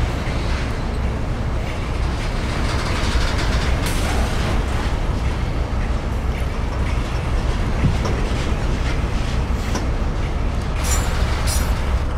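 A train in the Train Simulator 2017 game runs with one carriage missing, giving a continuous loud rumble with wheel clatter and occasional brief squeals and clicks, with no voices.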